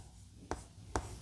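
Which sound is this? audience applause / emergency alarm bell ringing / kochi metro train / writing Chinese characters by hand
writing Chinese characters by hand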